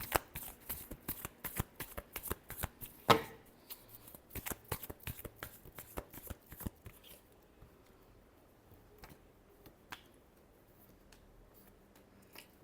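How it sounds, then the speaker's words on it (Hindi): Tarot cards are shuffled close by in quick riffling bursts for about seven seconds, followed by a few sparse card taps and soft handling sounds in near quiet. "Last shuffle."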